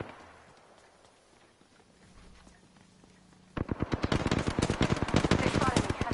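Rapid video game gunfire bursts out suddenly partway through, a loud stream of sharp automatic shots following a quiet stretch of low background sound, with no voices.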